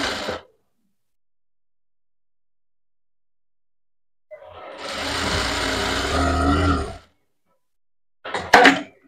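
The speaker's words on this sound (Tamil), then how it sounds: "நான் இதுலேருந்து நீட்டாக ஒரு தையல் போட்டு எடுத்துக்கிறேன்" Sewing machine stitching a seam on a garment, a brief whir at the start, then a steady run of rapid mechanical stitching for about three seconds, and a short final burst, close and clear with silence between.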